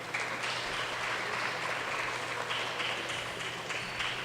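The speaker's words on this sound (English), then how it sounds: "So give yourselves a round of applause as well." Parents, friends and families at a senior basketball championship between St Mary's Knights and Korah Colts applaud in a gym, a steady wash of clapping that holds evenly for several seconds without any voices over it.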